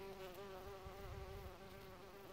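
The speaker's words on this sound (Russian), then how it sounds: "Пчелы или шмели." Bumblebees buzz steadily around low flowering plants at a former military training ground, a continuous droning hum with no talk.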